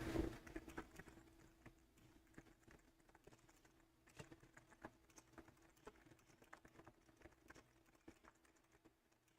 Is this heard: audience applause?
no